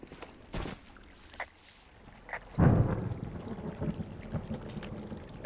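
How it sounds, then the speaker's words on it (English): Thunder in the video game Firewatch: a sudden heavy low rumble bursts in midway and rolls on, after a few faint thuds and rustles, with no talk. "Hey, I heard some thunder."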